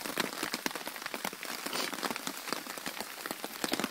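Rain falls steadily outside at a campsite, a dense patter of drops striking nearby surfaces, even and close, with no talking.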